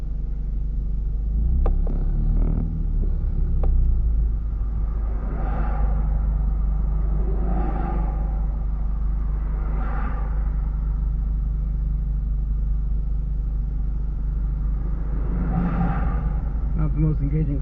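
Road traffic heard from inside a Mazda Miata, a steady low rumble of passing cars with engine noise swelling and fading in waves, the same level throughout.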